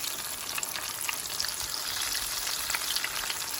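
Beer-battered onion rings fry in hot oil with a steady, close hiss and crackle of fine bubbling that holds at an even level throughout, no voices over it.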